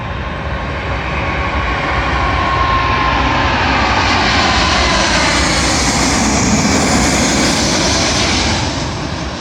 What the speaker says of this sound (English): Arriving in now is a British Airways Boeing 777, working a delayed service from Delhi in India to London Heathrow